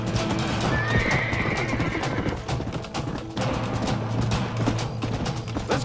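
Horses neigh and whinny with clip-clopping hooves in the Red Dead Redemption video game, a loud, continuous mix of snorts and hoofbeats with a drawn-out whinny early on.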